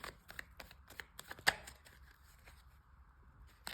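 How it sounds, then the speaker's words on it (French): Oracle cards shuffled and drawn by hand, a run of soft flicks and riffles, with one sharper snap near the middle, close and quiet, with no voices. "Je vais prendre 3 cartes."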